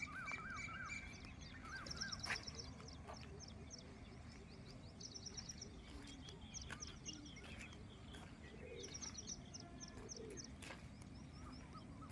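Pigeons flock outdoors with soft cooing, scattered chirps and occasional wingbeats as they take off, over a low background rumble; fairly faint, with a few distant sharp sounds.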